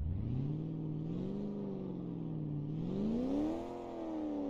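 A video-game straight-six car engine revs up and down in smooth, synthetic-sounding sweeps, rising, dipping, then climbing again, loud and close with no talking.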